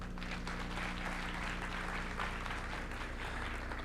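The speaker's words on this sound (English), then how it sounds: "I know you guys can do a thunderous round of applause for that." Sustained, dense audience applause rings out at an education conference on equity and excellence, a steady crowd of clapping hands with a low hum underneath and no speech.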